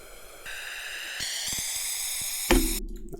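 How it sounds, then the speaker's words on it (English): A rising, brightening wash of white noise swells over a few seconds in steps, then cuts off abruptly at its peak. "Then I have a white noise uplifter"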